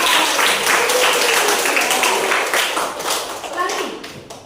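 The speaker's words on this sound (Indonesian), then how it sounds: "dikasih tepuk tangan dulu yang lain" Classroom of students clapping hands together during a lesson, a dense, steady burst of claps lasting several seconds, loud and close, thinning toward the end with voices faintly mixed in.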